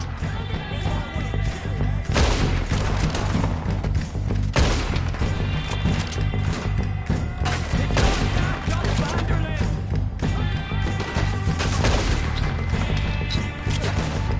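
A Red Dead Redemption 2 shootout: heavy gunshots crack every couple of seconds over a constant roar of battle noise, loud and close, with voices shouting in between.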